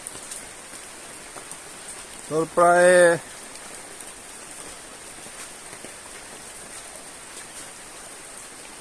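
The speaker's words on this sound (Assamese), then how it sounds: "এইকেইদিন আৰু বৰষুণ দি আছে" Steady rain patters on a surface throughout, with a brief burst of speech partway through.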